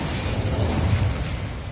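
Fiery spell blast in Hogwarts Legacy, a loud continuous roaring burst with crackling, rumbling low end that fills the whole moment without any voice over it.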